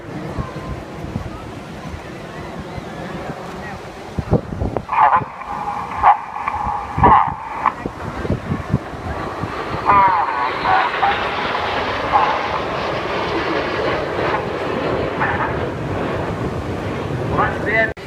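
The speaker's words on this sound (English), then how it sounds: "As they start coming down the other side of the hill, they're accelerating back up to 400 miles an hour." Red Arrows jets fly at an air show over the sea at Bournemouth, giving a distant roar that builds into a broad rushing sound, heavy with wind noise, under a commentator's voice.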